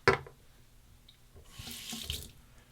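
Water from a tap runs into a sink as a razor is rinsed during a shave, a sharp splash at the start then a softer steady stream swelling toward the end.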